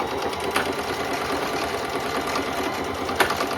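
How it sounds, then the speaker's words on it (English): A sewing machine stitches steadily down a long strip of skirt fabric, its fast even needle chatter running continuously at moderate, close range with a couple of faint clicks and no voices. "I'm going to fold it in half this way and I'm going to sew all the way down."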